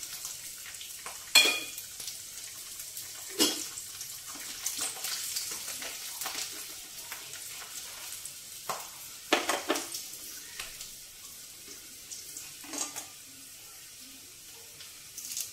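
Garlic, urad dal, mustard seeds, cumin and dried red chillies frying in oil, a constant crackling sizzle broken by repeated louder bursts of spoon stirring and scraping against the pan, with no talk.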